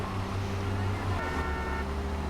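A police car siren wails in the video game GTA III over steady traffic and engine noise. It rises and holds as a tonal whine through the middle of the moment, fairly loud and near.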